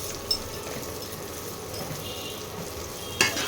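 Kashmiri chili powder and spices fry in oil for a fish curry, giving a quiet steady sizzle with two sharp utensil clinks, one early and one near the end.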